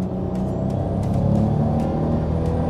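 A car engine pulls hard in third gear on a fuel additive: a steady, loud, deep rumble swelling slightly as it accelerates, heard from close inside the vehicle.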